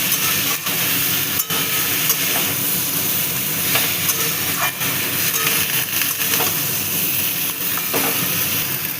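Steady, loud sizzling and hissing as okra cooks in a pan with potatoes and pointed gourd, the frying noise continuous with occasional faint clicks of stirring.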